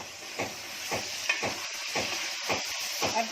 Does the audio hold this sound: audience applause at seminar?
no